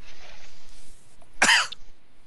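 A voice imitates a character coughing, starting with a faint breathy lead-in and then one sharp, close cough burst with a short trailing rasp, alone and quiet.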